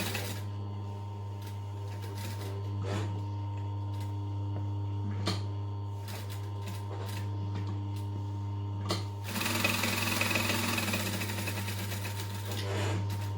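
A sewing machine stitching along a marked line, a steady close mechanical whirr with faint ticking over a constant low hum, growing brighter and louder near the end.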